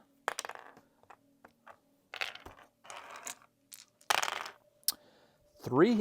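Four plastic dice clatter and tumble across a table in a HeroQuest board game session, several sharp bursts of rattling taps spread over a few seconds, ending with a short voiced sound.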